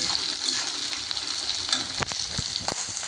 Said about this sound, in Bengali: পেঁয়াজটাও আমি হালকা করে ভেজে নেব